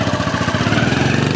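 A motorcycle engine runs steadily close by, its rapid regular low thumping pulse holding an even idle-like rhythm throughout with no voices over it.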